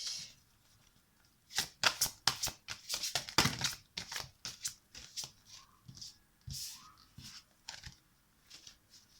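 A deck of cards is shuffled and cut by hand, giving rapid bursts of riffling and crisp snapping flutters in quick succession, close and fairly quiet, with short pauses between rounds.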